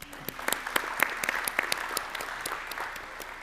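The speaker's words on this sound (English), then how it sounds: "So would you give them all a round of applause?" Audience applause at a cooperative district meeting and election, a steady patter of many clapping hands with sharp individual claps standing out, moderately loud throughout.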